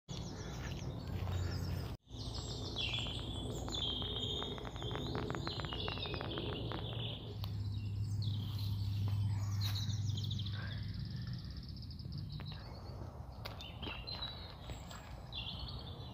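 Several birds sing and call outdoors on the first day of spring in the UK, bright chirps and trills overlapping continuously at moderate distance, with a brief crow-like caw and faint rustling footsteps but no talking.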